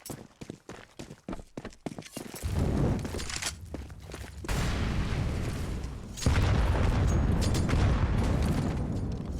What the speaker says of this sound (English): Oh, the nades!